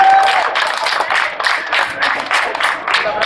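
A crowd at a night-time midsummer running race in Oleśnica claps for the winners at the awards ceremony, steady, moderately loud applause with a few faint cheers.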